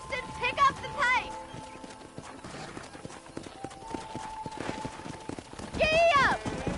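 Rapid rhythmic hoofbeats of a galloping horse in the video game Red Dead Redemption, with a brief whinny and game music layered over steady background noise.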